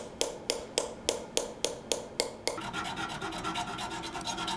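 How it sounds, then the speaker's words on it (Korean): A steel chisel strikes a copper plate while carving patterns for a gilt-bronze crown, giving about nine sharp, evenly spaced metallic taps up close, then a continuous scraping rasp. "동판에 문양을 새기기 위해서는 정을 이용해 일일이 쪼거나 잘라내야 한다."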